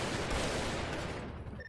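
Gunfire in the video game GTA V, a dense burst of rapid shots in a continuous loud barrage that fades slightly toward the end, with no talking.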